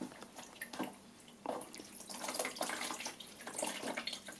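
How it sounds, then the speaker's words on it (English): Fabric being wetted in water before dyeing, with intermittent splashes, drips and sloshing at close range, quiet and uneven, no voices. "And I will take this piece and get it wet."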